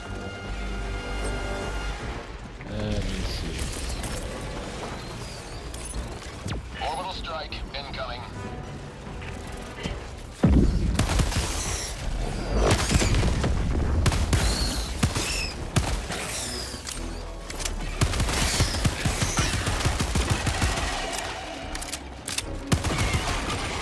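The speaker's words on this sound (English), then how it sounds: "Throwing grenade." A grenade blast bursts out sharply midway through heavy Helldivers 2 combat, surrounded by loud bursts of automatic gunfire and shouting voices.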